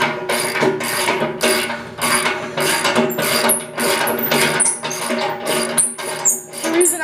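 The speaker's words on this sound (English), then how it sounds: "You want to take a 7/8 socket and put it on your socket wrench" A socket wrench fitted with a 7/8 socket, on a Thunderbolt 1000 siren restoration, ratcheting in repeated bursts of rapid clicking, about eight strokes, loud and close with no talk.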